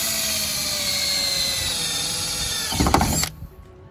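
Power drill boring holes to mount a rear spoiler on a Mazda Miata, a steady loud whine for about three seconds that bogs as the bit breaks through, then cuts off abruptly.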